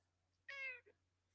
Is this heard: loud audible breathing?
no